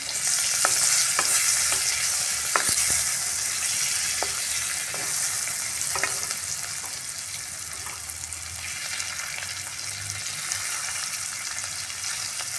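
Boiled potatoes frying crisp in oil in a pan over a high gas flame, with a steady loud sizzle throughout and occasional sharp clicks of a spatula, close and continuous with no talking.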